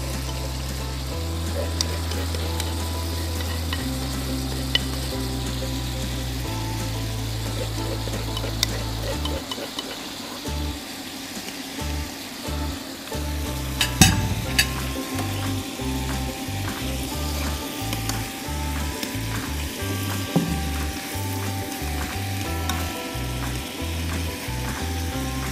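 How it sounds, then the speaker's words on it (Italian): Garlic frying in a pan for boghe alla marinara, a constant crackling sizzle with a low rhythmic scraping and clicking from stirring that changes pace midway, plus a few sharp clinks. "aggiungiamo l'aglio"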